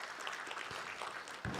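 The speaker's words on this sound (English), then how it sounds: "help me welcome the panelists with a round of applause" Applause at a panel discussion on local pharmaceutical manufacturing, greeting the panelists: a broad, steady wash of clapping from the audience, moderately quiet and continuous, swelling slightly near the end.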